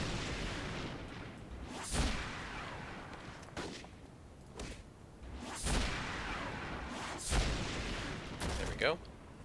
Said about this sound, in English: Somebody shooting at me?